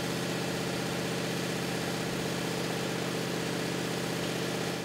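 A 1966 Dodge Charger V8 runs during engine break-in, held at about 2,000 RPM, giving a loud, steady, continuous drone with an even pulsing throb and no voices.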